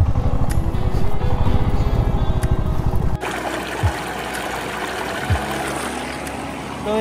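Clear mountain river water flows near Zojila Pass, a steady close rushing and trickling that fills the whole clip, with a softer, more distant wash in the second half.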